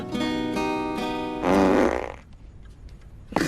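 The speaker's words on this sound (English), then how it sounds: "Why do you always blame me when you fart?" A loud, drawn-out fart in a comedy show, about half a second long and rasping, following a sustained tonal sound and fading into quiet room tone, with no talking.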